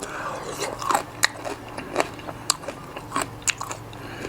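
Crispy fried pork belly crackling is bitten and chewed up close, giving a run of sharp crunches and crackles at an uneven chewing rhythm over about four seconds, with no talking.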